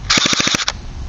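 Airsoft DE M81 V2 rifle firing a short full-auto burst of about six rapid, loud, close-up shots over a chronograph, followed by one separate shot and a quiet tail.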